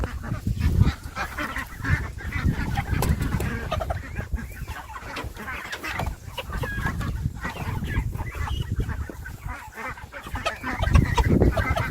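Farm ducks quack and honk in a busy cluster alongside chickens and geese, a near, continuous chorus of overlapping calls throughout.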